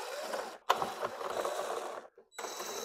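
Screws being driven out of a duct bracket on a 1998–2002 Dodge Ram dashboard with a power tool, a close rattling whir in two bursts separated by a short pause.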